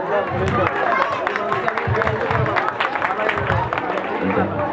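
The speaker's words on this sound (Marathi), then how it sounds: "कृपया टाळ्या असू द्या।" An audience claps at a Buddha Jayanti celebration in Bhim Nagar, Mohini Village: sustained applause that stays loud and dense for the whole stretch, with a crowd murmuring under it.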